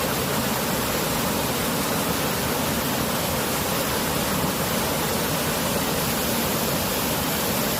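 A waterfall deep in the Nakanai forest of West New Britain roars as a steady, dense rush of falling water, loud and unbroken throughout with no voices.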